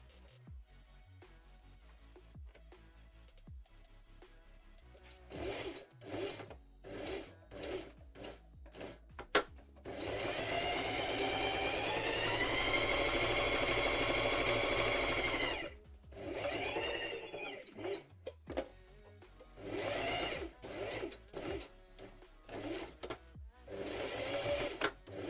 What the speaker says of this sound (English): there's a fair bit of sewing just to get this one set up, because I've got to sandwich these layers together